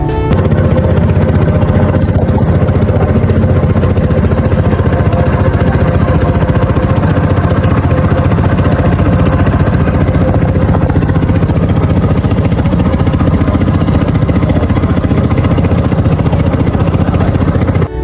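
A motorboat engine drones steadily and loudly as the boat heads toward an estuary at falling tide, a constant close mechanical rumble with no pauses or voices.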